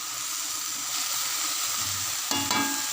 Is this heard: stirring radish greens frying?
yes